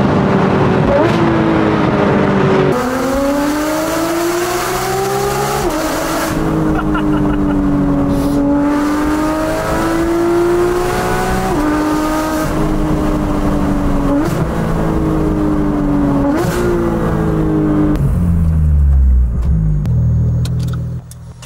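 A Porsche GT4 RS or GT3 RS engine revs loudly through several rising gear pulls on a Colorado mountain drive, each climb cut by a shift, then fades toward a low rumble at the end.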